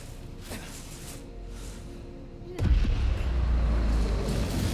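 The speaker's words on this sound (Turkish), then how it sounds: "Aha patladı eyvahlar." Explosions in the video game Spider-Man Miles Morales, a deep booming blast that erupts suddenly partway through and rolls on as a heavy rumble over a background of game noise.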